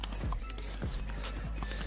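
Horse hooves clip-clop along a mountain trail on the trek toward Tungnath and Chandrashila. Several close, fairly loud hoof strikes fall in an uneven walking rhythm over steady outdoor background noise.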